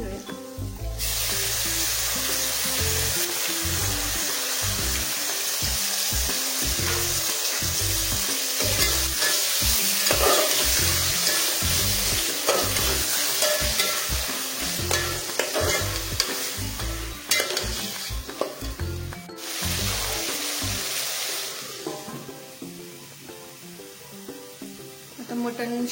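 Marinated mutton fries in a pan with ginger and garlic for a spicy Satara-style curry, sizzling steadily while a spoon stirs and scrapes in frequent rhythmic strokes, close and clear.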